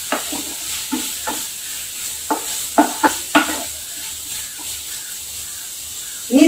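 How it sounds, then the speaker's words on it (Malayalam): Paneer bhurji being stirred in a pan over a low flame, with soft scraping and clinking strokes at an uneven rhythm and a faint sizzle underneath, close and fairly quiet. "ഇതെല്ലാം ചേർത്ത് കൊടുത്ത് ഇളക്കുമ്പോൾ ലോ ഫ്ലെയിമിൽ തന്നെ വെച്ച് ചെയ്യുവാൻ പ്രത്യേകം ശ്രദ്ധിക്കണം."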